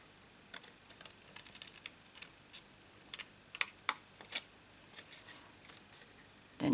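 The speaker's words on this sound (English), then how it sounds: "So my scissors are going inside." Paper crafting scissors snip through cardstock for an explosion pop-up card in a series of short, crisp, faint cuts at irregular intervals, with a louder rustle at the end.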